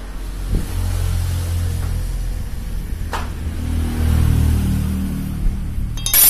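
A Honda GL motorcycle engine with a raised stroke and timing-chain work runs steadily nearby with a low, even rumble that swells slightly, plus a sharp click partway through.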